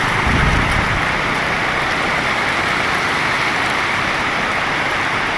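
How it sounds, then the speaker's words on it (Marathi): A vehicle drives through floodwater on a Konkan road during heavy monsoon rain. Water surges briefly near the start, then a continuous wash of water and rain carries on. "हे बघा पाण्यातून गाडी आणते"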